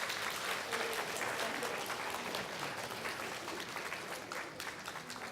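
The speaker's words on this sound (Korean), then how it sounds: "우리 박수 한번 더 쳐주세요" Steady applause from a church congregation after new members receive potted plants as gifts, dense and even throughout, fairly faint and distant, with no talk over it.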